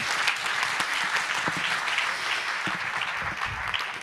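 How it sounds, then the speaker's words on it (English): Warm audience applause at an innovation forum, steady close clapping with a bright, even texture that continues without a break for the whole stretch. "I think we can give her a warm round of applause."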